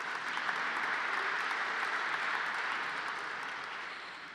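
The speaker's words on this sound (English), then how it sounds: "can applaud for that." Sustained audience applause at an awards gala, a dense, even wash of many hands clapping that holds steady and slowly fades toward the end, with no talking over it.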